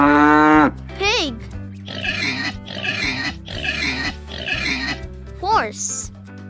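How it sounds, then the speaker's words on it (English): A pig grunts and oinks in a quick run of rough snorts, close and fairly loud, bracketed by short chime-like musical sounds and a brief voice at the start. "Pig."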